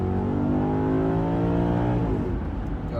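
A Porsche or Maserati executive sports sedan accelerates with a steady, loud engine drone heard from inside the cabin, its pitch climbing smoothly through the revs before easing off at the end, with no talking.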